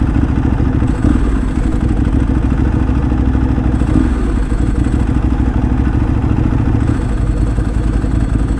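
A Ducati motorcycle engine runs loud and close with a steady, throaty rumble that rises and dips briefly near the middle, heard alone without talk.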